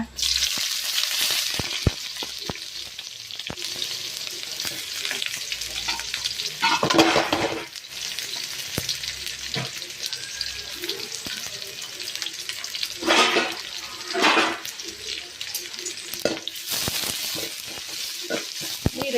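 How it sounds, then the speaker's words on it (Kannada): Loud continuous sizzling of garlic and onion frying with crackling mustard seeds in hot oil, close and steady throughout with occasional stirring scrapes and surges. "ಸಾಸಿವೆ ಚಟಪಟ ಬಂದಾಗ ಬೆಳ್ಳುಳ್ಳಿ ಪಾಡ್ಗ ಬೆಳ್ಳುಳ್ಳಿ ಕಾಯಿಂದ ಬಂದಾಗ ನೀರುಳ್ಳಿ ಪಾಡ್ಗ"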